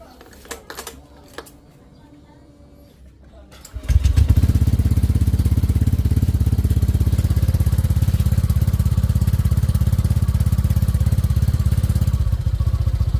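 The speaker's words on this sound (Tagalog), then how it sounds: "32mm dito sa JBT B3 pipe na nakakargang Honda Click 125 na 160cc." Honda Click 125 scooter bored to 160cc, fitted with a JVT V3 exhaust pipe and a 32mm big elbow, idles with a steady, loud low rumble after a few quiet clicks and handling noises at the start.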